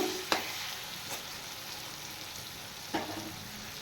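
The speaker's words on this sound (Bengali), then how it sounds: "ভেজে রাখা আলুগুলো দিয়ে দিয়েছি এবার আর একটু হালকা ভেজে নেব" Fried potatoes sizzle gently with rohu fish in a pan. Two or three short spoon scrapes of stirring break a soft, steady frying hiss that stays fairly quiet and close, with no talking.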